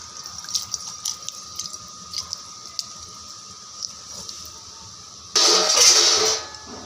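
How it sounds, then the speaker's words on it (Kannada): Water is poured into a spice-coated pan to help grind masala for avarebele saaru. A short, loud gush of pouring water comes after a stretch of faint drips and small clicks. "ನೀರು ಹಾಕ್ಕೊಳ್ಳೋಣ."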